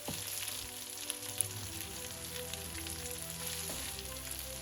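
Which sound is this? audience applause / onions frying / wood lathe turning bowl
onions frying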